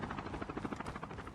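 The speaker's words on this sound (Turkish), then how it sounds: "O helikopter kalkmamalıydı." A helicopter taking off in Call of Duty Mobile, its rotor chopping in a rapid, steady pulse with an engine roar, loud and continuous with no voices.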